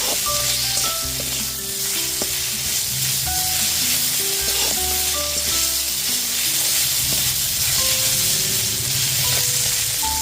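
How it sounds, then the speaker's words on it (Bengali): Ginger paste sizzles steadily in a hot pan, a dense continuous frying hiss with scattered scrapes and clinks of stirring, close and fairly loud with no voices. "আদা বাটাটা দিয়ে দেওয়ার পর খুব ভালো মতো একটু মিশিয়ে আদা বাটাটাকে একটুখানি ভেজে নেব"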